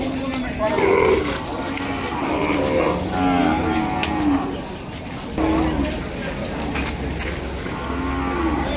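Ongole cattle low and moo at the Kodada cattle market, their calls mixed into busy market noise with people talking throughout.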